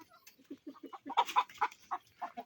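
Chickens cluck nearby in a steady run of short, soft calls, a few louder squawks rising in the middle.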